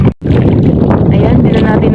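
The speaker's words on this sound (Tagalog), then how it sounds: "Medyo nagagalit pa rin yung hangin." Strong sea wind buffets a fishing boat out shrimping in rough northeast-monsoon weather, a loud continuous roar and microphone rumble that briefly cuts out near the start, with faint voices beneath.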